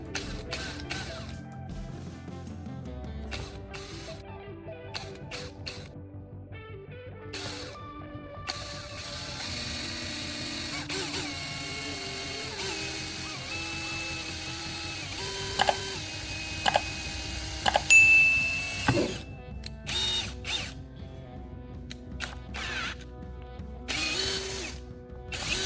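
A power drill whirs in bursts, its motor pitch climbing and dropping as it bores a hole in PVC pipe, with mechanical clicking between runs and no talking.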